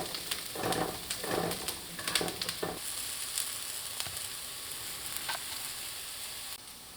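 Two pounds of beef sautéing in a pan, a steady close sizzle with a few scraping stirs early on, fading to a quieter continuous fry.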